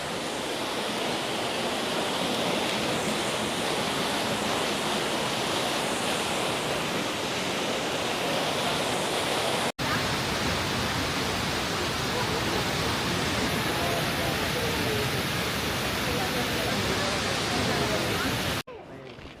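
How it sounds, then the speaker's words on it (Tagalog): Waterfall at Monasterio de Piedra, heard near the mouth of a cave as a loud, constant roar of rushing water that goes on without a break. "Bungad ng falls."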